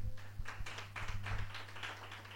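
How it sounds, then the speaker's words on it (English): An audience gives light, scattered applause, quiet and uneven claps pattering for a couple of seconds over a low steady hum. "Let's clap for ourselves."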